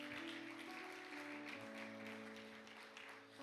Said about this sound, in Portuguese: Assente, aplaudindo ao Senhor nessa noite.